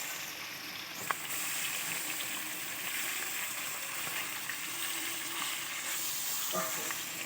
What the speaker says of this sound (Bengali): দেখো একটা একটা করে এবার মাছগুলো তেলের ওপর ছেড়ে দিলাম।